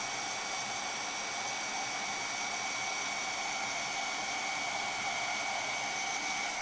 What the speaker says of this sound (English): I'll warm up my heat tool here and we'll melt the powder